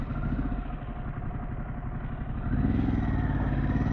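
Harley-Davidson Pan America motorcycle with a Vance & Hines exhaust riding off-road, a steady, loud, throaty engine rumble with a chattering firing pulse that swells slightly louder toward the end.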